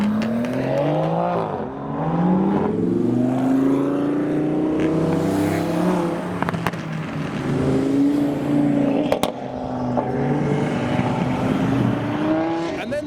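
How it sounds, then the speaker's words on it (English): Loud modified supercar engines revving and passing, including an Aston Martin DBS, Lamborghini Huracan and Porsche 996, with sharp exhaust crackles and pops scattered throughout, no talking. "Crackles and pops."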